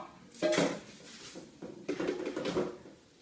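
Measured liquid poured into a cooking pot while making salted eggs, with clattering pot and utensil knocks and splashy bursts in two close, loud rounds.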